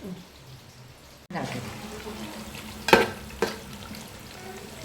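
Jackfruit pieces frying in hot oil, a steady low sizzle that starts abruptly and carries on with a couple of sharp crackling pops, close up with no one talking.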